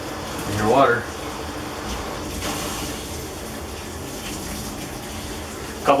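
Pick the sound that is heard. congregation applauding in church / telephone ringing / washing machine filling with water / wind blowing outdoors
washing machine filling with water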